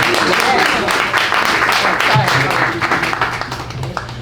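Audience clapping at a live talk event, a lively patter of hands with voices talking and calling out over it, easing off toward the end.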